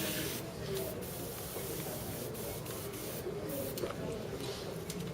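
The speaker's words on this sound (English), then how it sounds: "It's always very hard to airbrush without paint." Airbrush spraying with no paint loaded, giving a steady continuous airy hiss of compressed air that runs through the whole stretch at moderate, even loudness without breaks.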